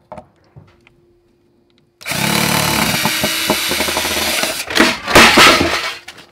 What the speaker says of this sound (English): When I drilled that, everything fell.